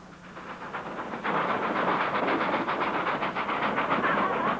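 A train climbing a steep mountain gradient with its locomotive pushing from the rear, a loud, steady chuffing and rumbling with rhythmic clatter that builds and then holds, alone with no talk.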